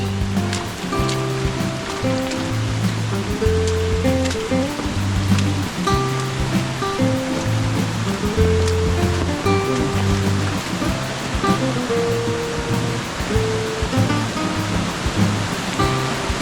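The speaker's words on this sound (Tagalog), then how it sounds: "Lakas mo ng tubig." Strong rushing water at an outdoor spot, a loud continuous roar that fills the whole stretch without a break, steady and close, with no voices over it.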